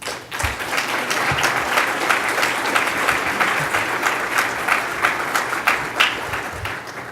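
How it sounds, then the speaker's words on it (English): Conference audience at the NewSpace 2017 opening keynote applauding, a sustained wash of many hands clapping for several seconds, fairly loud and even, with no voice over it. "I think we all can give ourselves a round of applause"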